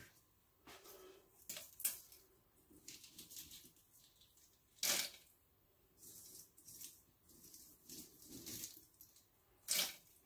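Chili seeds are washed under a running tap in a kitchen sink: faint water flow with intermittent splashes and a few sharper bursts of rinsing, alone without speech.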